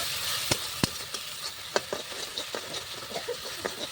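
Spices frying in a little hot oil in a pan, a constant loud sizzle broken by sharp scraping clicks of a spoon as they are stirred, close by.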